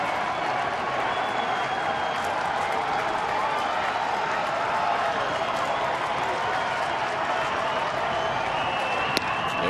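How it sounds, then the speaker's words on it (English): A baseball crowd at a New York Yankees at Detroit game in April 2009 roars after a Curtis Granderson home run, a steady, dense wash of cheering and clapping that holds loud and unbroken throughout. "Crowd that has remained here getting into it."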